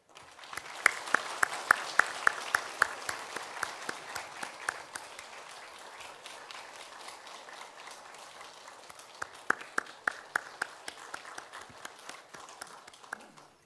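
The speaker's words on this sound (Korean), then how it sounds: "여러분 위로의 박수를 한번 보내주시기 바랍니다" A church congregation claps in applause, a crisp patter of many hands that rises in a quick burst, thins through the middle and swells again near the end, heard from within the sanctuary with no talk over it.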